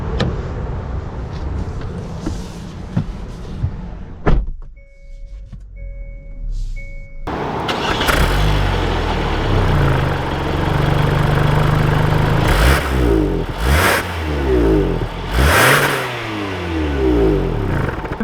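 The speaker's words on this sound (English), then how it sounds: "let's take this Tucson out and see how it drives" A 2021 Hyundai Tucson Ultimate starts up and pulls away, the engine turning over after a brief quiet pause, then a steady, fairly loud drive sound with rising and falling revs as the SUV moves off.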